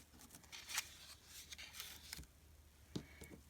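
Scissors snip through paper trim in a few quiet, close cuts, with soft rustling and rubbing of paper between them and no talking.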